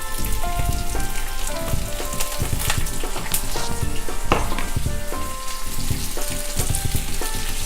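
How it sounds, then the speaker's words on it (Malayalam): Five chopped green chilies and curry leaves frying in hot oil in a pan, a loud, dense crackling sizzle like rain, with occasional sharp pops and stirring, no speech. "അതിന് ശേഷം ഒന്ന് ഇളക്കി ഫ്രൈ ചെയ്തെടുക്കുക."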